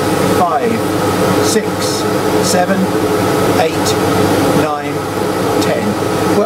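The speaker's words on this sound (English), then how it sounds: "I'm going to switch the air assist on because I need to blow air here to stop it catching fire" Air assist on a laser cutter blows a steady, loud stream of air, a constant hiss and whoosh throughout while a man counts aloud from zero to ten over it.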